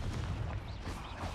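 The Confringo fire-blast spell goes off in Hogwarts Legacy with a short, dense, booming burst. It is fairly quiet and heard alone, without talk.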